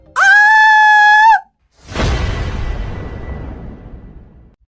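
A woman lets out a single loud, sustained high-pitched scream in a horror cartoon story, followed after a brief gap by a crashing, fading whoosh.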